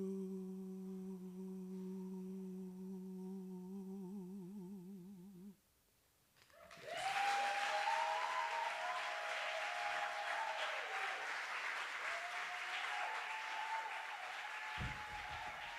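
A sustained sung or held musical tone fades out, then after a short pause an audience breaks into loud, dense applause for a singer at a keynote event, with whoops and cheers rising over the clapping.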